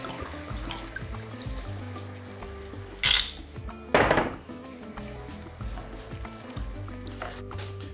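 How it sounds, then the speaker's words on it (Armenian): Semi-sweet red wine poured into a pan of softened onion, giving a couple of short bursts of splash and sizzle over a quiet kitchen background with faint clinks. "հենց սոխը փափկեց, ավելացնում ենք 100 մլ կիսաանապակ կարմիր գինի"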